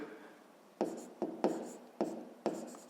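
Pen strokes on paper while working a fifth-grade math exercise: soft scratching with a handful of sharper taps as marks are made, close and fairly quiet.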